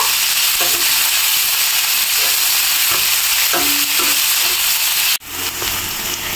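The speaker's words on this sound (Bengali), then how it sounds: "পেঁয়াজটা হালকা একটু ভেজে নিব।" Chopped onion sizzles lightly in hot oil with nigella seeds, a steady close frying hiss broken by repeated stirring scrapes, with a brief dip just before the end.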